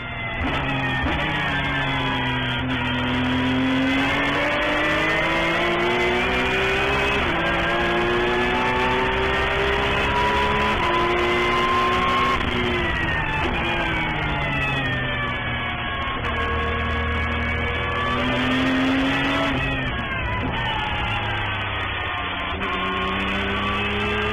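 A Porsche 911 GT3 Cup race car at Road Atlanta in an SCCA GT2 race, its engine note loud and continuous and rising and falling through gear changes under braking and acceleration, with no talk over it.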